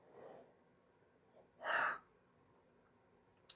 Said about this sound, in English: We all know the yawns are a good sign.